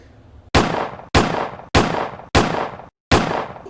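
Five loud, sharp gunshots ring out in close succession, each about half a second apart with a brief gap before the last, every crack trailing into a short echoing decay.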